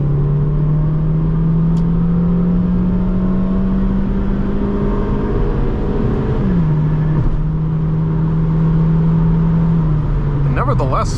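A 2001 Honda Civic LX engine pulls at full throttle from inside the cabin, with a loud steady drone rising in pitch, a brief dip at a gear change, then climbing again.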